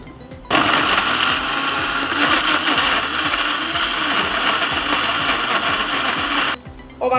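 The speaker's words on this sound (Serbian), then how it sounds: "I ovako očišćen paradajz stavljam u blender." A kitchen blender purees cleaned tomatoes, its motor whirring loudly and steadily for about six seconds before stopping abruptly.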